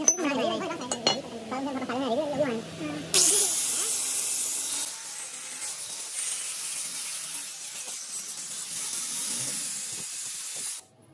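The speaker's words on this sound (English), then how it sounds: "since our wrench is repaired and not a new piece, a simple spray paint is used." Spray paint is applied to a restored giant steel wrench: a few seconds of voiced sound, then a steady, bright hiss from the spray can that runs for about eight seconds and then cuts off.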